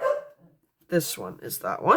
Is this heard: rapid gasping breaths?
no